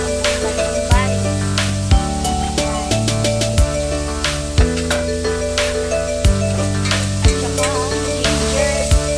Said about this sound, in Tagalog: Then, gigisa na ni Dante TV yung isa na kamatis at saka ang bawang